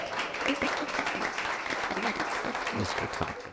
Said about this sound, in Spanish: Regalamos un aplauso por Mike.